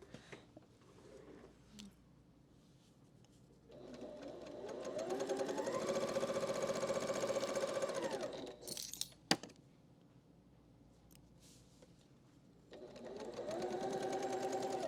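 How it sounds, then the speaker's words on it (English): A sewing machine stitches a quilt block in two bursts of rapid, steady whirring with a pause of small clicks and handling noises in between, fairly faint and close. "So I'm going to stitch that here."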